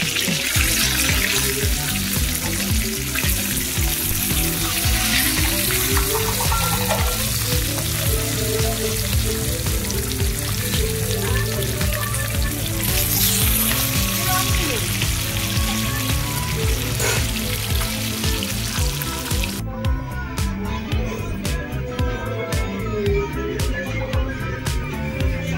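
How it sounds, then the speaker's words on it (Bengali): Pieces of rohu fish fry in oil in a pan, a continuous close sizzling and crackling that holds steady throughout, with faint clatter and a brief shift in texture near the end. "এক এক করে তেলের ওপর মাছগুলো দিয়ে দিলাম।"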